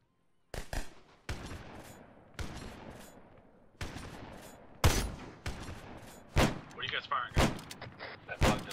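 Gunfire in the Halo video game: a string of sharp, loud shots and short bursts cracking out every second or so, with brief pauses between, punctuated by heavier blasts near the end.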